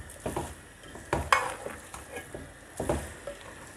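Beef dropping into a hot pan with sautéed onions for burritos, sharp sizzling bursts as pieces hit the oil and are stirred, a few clattering spikes between quieter crackling.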